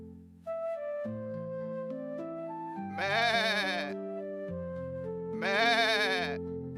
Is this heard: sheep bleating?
yes